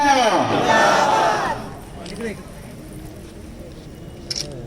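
A crowd gathers near the stage at a Shiv Sena (UBT) political rally. It roars and shouts loudly for about a second and a half, then drops to a low background murmur with a few faint distant calls.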